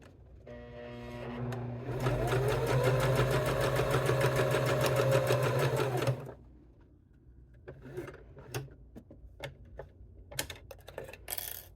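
A sewing machine stitches a leather wallet in a fast, even run of needle strokes lasting about four seconds, then stops, leaving scattered clicks and small handling noises.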